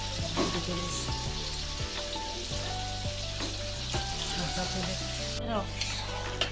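Five kilograms of marinated goat meat sizzles and fries in a large pot while being stirred, giving a loud, steady frying hiss with scattered scraping knocks, set against a low constant hum.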